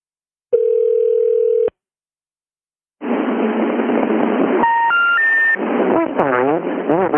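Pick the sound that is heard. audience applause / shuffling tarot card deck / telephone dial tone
telephone dial tone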